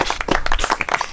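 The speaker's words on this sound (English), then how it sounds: "come on, everybody, unmute and let's get some applause" A handful of people clap over a Zoom call, with scattered, uneven claps arriving close and slightly clipped for about a second.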